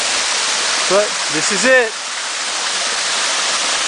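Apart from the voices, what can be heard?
Berry Creek waterfall flowing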